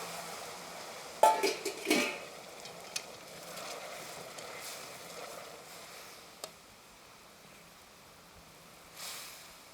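Boiling hot water hits caramelized sugar in a pan, giving a short loud hiss and sputtering burst, followed by faint clinks and a quiet bubbling simmer.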